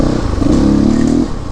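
A CrossX 300 motorcycle engine revs steadily and loudly up close, holding a strong rumbling note for about a second before easing off slightly, with no one talking.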